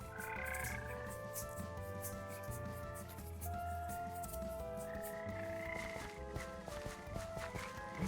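Frogs in the modded Minecraft video game croak steadily throughout, their repeated in-game calls layered with musical tones and no one speaking.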